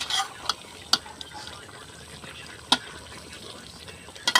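Ginataang tulingan, tuna simmering in seasoned coconut milk with papaya, gives a low bubbling hiss with a few sharp utensil clinks scattered through it.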